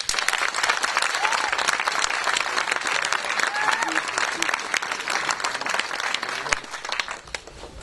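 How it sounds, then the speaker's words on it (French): A concert audience gives sustained, loud applause for trumpet player Rose, a thick wash of many clapping hands with some crowd voices mixed in, tapering slightly toward the end. "je voudrais aussi qu'on applaudisse Rose à la trompette"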